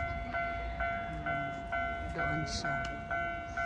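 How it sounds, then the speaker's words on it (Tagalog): A train pulls into a station during cherry blossom season in Japan, its steady rumble and tonal hum running close and moderately loud under clicks and soft background sounds, while someone speaks briefly. "Kadating po yung tren."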